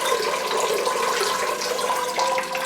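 Water poured over brand-new, bone-dry bark in the pot of a store-bought Phalaenopsis orchid gives a steady, close splashing hiss that runs unbroken through the whole stretch.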